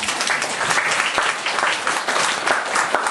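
A church congregation at a sermon applauds in a loud, steady, close wash of many hands clapping, sustained without a break throughout.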